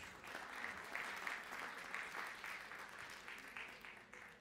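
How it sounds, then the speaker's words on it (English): Applause at a maritime Day of the Seafarer award ceremony, a broad, fairly distant patter of many hands that swells and then gradually thins out toward the end. "Ladies and gentlemen, a louder round of applause"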